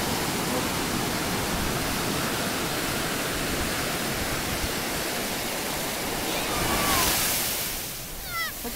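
Ocean surf rolling onto Zuma Beach on Christmas Day, a dense, steady roar of breaking waves that swells briefly louder near the end, with some wind rush.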